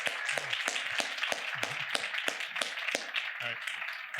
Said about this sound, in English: can we get a round of applause for Glenn Allison of Honey?